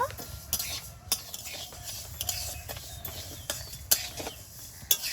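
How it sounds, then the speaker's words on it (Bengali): Mung dal dry-roasted in a hot kadai on a village stove, heard as quiet scraping stirs with sharp clinks of a spoon against the pan about once a second. "ডালটা একটু ভেজে নেব"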